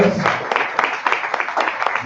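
Applause from an audience at an energy event, a short burst of scattered claps with distinct individual hits, fairly close and fading over about two seconds.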